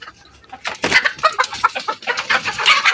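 Egyptian chickens cluck and squawk close by during vaccination, a busy overlapping flock that grows more agitated and louder over three seconds.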